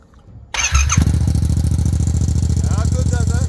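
A Yamaha MT-07 motorcycle with an Akrapovic exhaust, its baffle removed, cranks and fires up close by, then settles into a loud, rough, throbbing idle.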